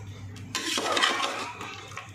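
A spoon scraping and clinking in a pot while chicken curry paste is stirred, a few short close metallic strokes over a low steady hum.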